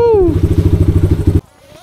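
A Kawasaki KLX 140 RF trail motorcycle engine thumps close and loud in steady rapid pulses, then cuts off abruptly, leaving near silence.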